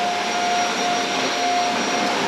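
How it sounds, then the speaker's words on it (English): A vacuum cleaner runs steadily near a six-year-old bulldog, its loud continuous whining roar filling the room with a high motor tone and no pauses. "he is stressed about the vacuum"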